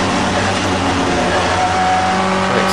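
Classic touring race cars drive hard past Mallory Park, a loud continuous engine snarl with steady, held tones that keep up without a break.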